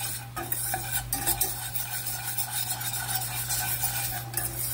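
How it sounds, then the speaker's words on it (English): Flour is whisked into roast duck pan drippings to build a roux for gravy: continuous close scraping and stirring with a light sizzle beneath and a low steady hum, no talking. "I am whisking as I put the flour in."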